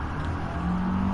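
Car speeding through a chase in Batman: The Telltale Series, engine droning low and loud then rising in pitch as it accelerates, with no talking.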